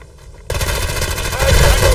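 SMG fire in the online shooter Hired Ops, a sudden loud, sustained rapid burst of automatic gunshots that continues to the end, close and dense.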